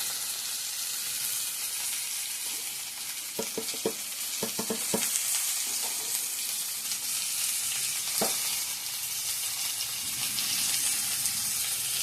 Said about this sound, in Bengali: লবণ হলুদ দিয়ে ভালো করে ভেজে নেব